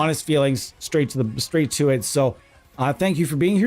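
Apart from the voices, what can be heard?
No distinct noise like a dog, phone or traffic.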